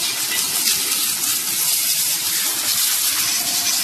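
A high-pressure water jet sprays steadily against an engine valve cover, making a continuous hissing rush with no pauses from start to finish.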